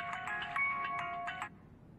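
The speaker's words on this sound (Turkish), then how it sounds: "Çınar, telefonun çalıyor oğlum" A mobile phone plays a bright, repeating electronic ringtone for about a second and a half, clear and moderately close, then it stops and quiet room tone remains.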